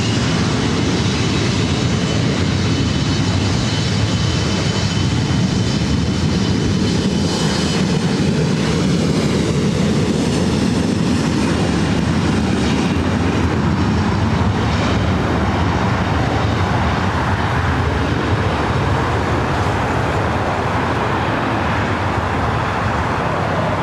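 A jet airliner takes off from runway 24 right at LAX, a loud sustained roar that rumbles and swells with a broadband rush over nearly half a minute, and no voices are heard.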